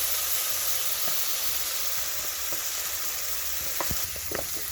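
Meat sizzles and hisses in a pot for Swahili pilau, a steady close frying noise with a few scattered stirring knocks toward the end.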